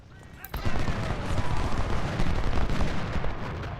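Cannon and artillery fire from a Civil War battle at First Bull Run in Ultimate General: Civil War, a sharp onset followed by a dense, continuous rumble of overlapping booming shots.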